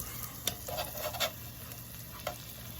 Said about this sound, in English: now I'm going to just slide it under, flip